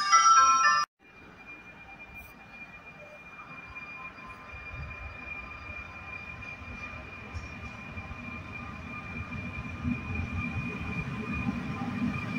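A train pulls in at the Pinhal Novo station platform, a low rumbling roll that slowly builds in loudness with faint wheel squeal and a steady tonal hum, following a brief announcement chime cut off at the start.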